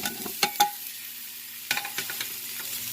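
Beetroot and ground spices sautéing in an Instant Pot, a low sizzle with a few sharp clinks and scrapes of stirring near the start and again partway through.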